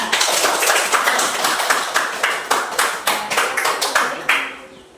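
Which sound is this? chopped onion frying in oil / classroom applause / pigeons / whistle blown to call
classroom applause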